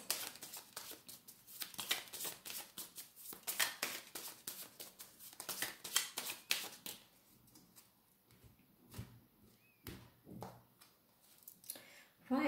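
Tarot cards shuffled and drawn up close, rapid papery riffling and flicking in quick bursts, then sparser single card snaps and slides, fairly quiet, with a voice talking at times.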